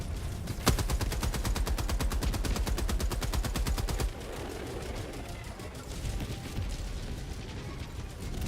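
Rapid automatic gunfire rattles in fast, even bursts in the Helldivers 2 video game, one sharp crack standing out at the start, then the fire continues at a lower, denser level.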